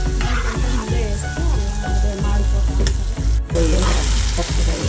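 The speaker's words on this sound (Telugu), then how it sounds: "అడుగంటకుండా ఇలా తిప్పుకుంటూ ఉండాలి మధ్య మధ్యలో" Tomatoes frying in oil in a pan for a prawn and crab curry, stirred steadily with a spoon; a close, continuous sizzle runs throughout, with scraping stir strokes and a short gap near the middle.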